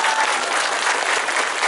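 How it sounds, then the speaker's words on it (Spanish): Audience at an outdoor public works inauguration event applauding, a dense, even burst of many hands clapping at once, loud and close, alone without speech. "Un aplauso para todos ustedes."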